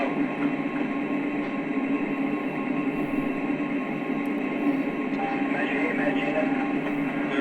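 A Lionel Legacy GP20 model train locomotive runs with a continuous rolling hum and rumble, steady throughout, with faint talk in the background.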